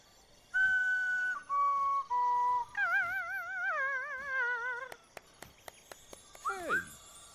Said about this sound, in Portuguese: Apito para peixes celestes.